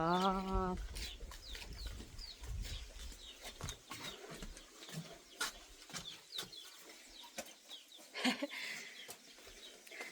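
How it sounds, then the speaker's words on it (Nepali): Chickens in a coop at a rural home in Panchthar, Nepal: a short clucking call at the start, then scattered pecking and rustling sounds under wind and a faint background voice. "हाम्रो कुखुराको खोर चाहिँ फेरि यस्तो छ"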